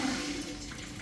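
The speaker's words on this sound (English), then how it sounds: "I'm opening the water slowly" Water supply being opened slowly to an electric bidet seat, producing a steady hiss of flowing water with no break, fairly close and moderately loud.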